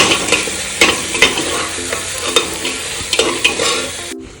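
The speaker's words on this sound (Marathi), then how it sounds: "आता त्याच्यामध्ये मी ग्रीन पीस टाकणार छान मिक्स करून घ्यायचे" Green peas are stirred into a frying tomato and onion masala, with loud, close spoon scrapes and clacks at uneven intervals over a bright sizzle that stops abruptly at the end.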